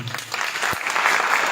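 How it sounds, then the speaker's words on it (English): A brief, full burst of audience applause at a children's mentoring session during the Shimla Book Fair, many hands clapping together at an even level. "So round of applause for her."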